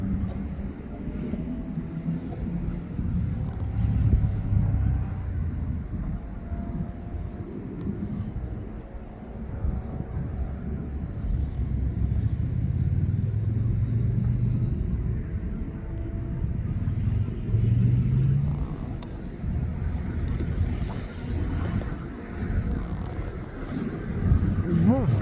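A DHL Boeing 777 cargo jet on final approach to East Midlands Airport makes a continuous low, rumbling roar. It swells and eases over about twenty-five seconds at a moderate distance.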